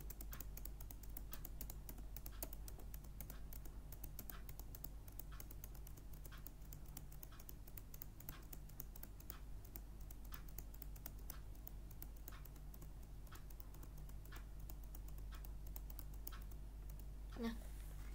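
A computer keyboard is typed on steadily while entering a router configuration command, giving faint, close, regular key clicks over a low background hum, with a louder tap near the end.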